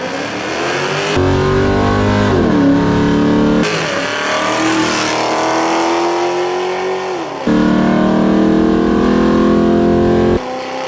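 Race cars roar through an evening final race at a Detroit speed week, loud and close, with engines revving up and down and shifting in long sustained waves.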